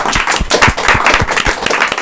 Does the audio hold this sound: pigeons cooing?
no